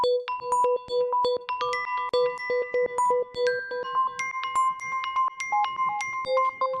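A bright FM synth plays quick plinking notes built from a sampled iPhone text alert chime, repeating in a busy, bouncy pattern.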